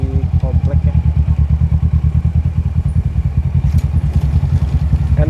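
A 2015 Kawasaki Versys 650 motorcycle on a test ride around a housing complex, its engine a loud, close, steady low throb with rapid pulsing and occasional clatter, running continuously throughout.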